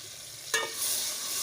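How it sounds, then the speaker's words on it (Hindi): Garlic, ginger and green chili paste dropped into browned onions in a pan, a sudden stir and sizzle that settles into a steady frying hiss. "अब मैं इसमें ये लहसुन अदरक हरी मिर्ची का पेस्ट ये ऐड कर रही हूँ"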